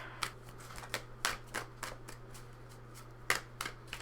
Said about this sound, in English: I do just kind of shuffle until the right card jumps out